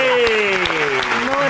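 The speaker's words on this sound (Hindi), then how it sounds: "उस्ताद राहत फतेह अली खान साहब, अब मारो ताली।" Crowd at a stand-up comedy show clapping for Ustad Rahat Fateh Ali Khan, brief rhythmic claps beneath a sustained tonal voice, moderately loud throughout.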